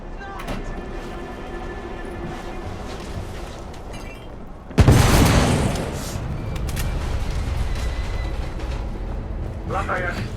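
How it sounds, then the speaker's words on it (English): A sudden loud explosion in the Victorian-era action game The Order: 1886 bursts in midway, followed by a roaring, rumbling aftermath and debris noise, with voices heard around it. "The damage from the explosion is getting worse."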